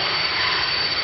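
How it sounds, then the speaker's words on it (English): Jet aircraft engine at Manchester airport, a loud steady broadband roar filling the whole short stretch with no voices. "what a cute little jet."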